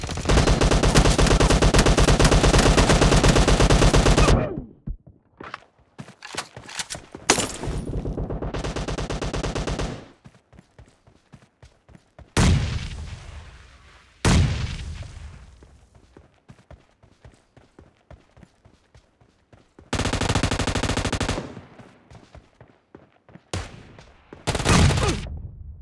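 Uzi gunfire in PUBG Mobile, rapid bursts of automatic fire in several long loud volleys separated by quieter stretches of single distant shots and footsteps.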